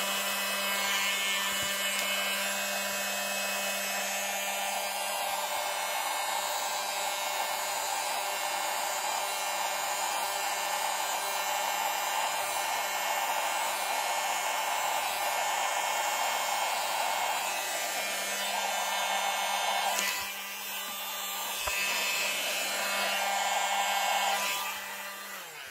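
A hair dryer blows over wet acrylic pour paint with cell activator on top, a loud, steady close whir with a constant hum, running nearly nonstop and dipping briefly near the end.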